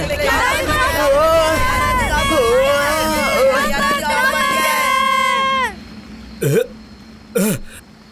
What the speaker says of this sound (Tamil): இந்த கூச்சல் சத்தமெல்லாம் எங்க மாயமாயிடுச்சு?